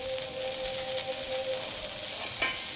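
Ingredients for masvadi rassa sizzle steadily as they are roasted and stirred in a hot pan, a close, continuous frying hiss with a brief scrape near the end.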